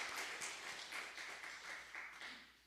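Congregation applause during a Korean Sunday church service, a steady wash of many hands clapping that holds evenly throughout at a moderate distance.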